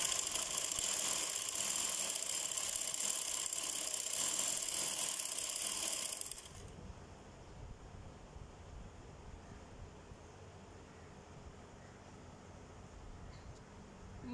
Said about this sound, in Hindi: सिलाई लगाते हैं।